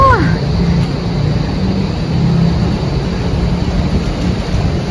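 Steady rain starts falling and hisses down over an outdoor scene at Ayala Triangle, with a low rumble underneath and a brief high chirp at the very start.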